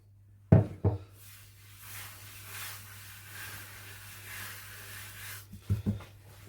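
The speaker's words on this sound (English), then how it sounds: "Take the dough out. What we do, need to knock this back." Risen bread dough for garlic and chilli flatbreads is knocked back on a floured board: two dull thumps at the start, then quiet, then a quick cluster of soft thuds at the end.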